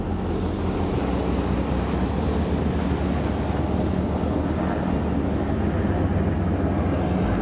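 Ocean surf at Windansea Beach rolls in a continuous, full wash of breaking waves, with wind buffeting the microphone throughout and no voices.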